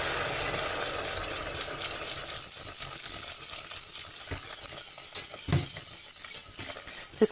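Steady scraping and swishing of a spoon stirring béchamel in a pan while asparagus stock is poured in for an asparagus lasagne, with soft sizzling under it and a few sharper clinks near the end; no talking.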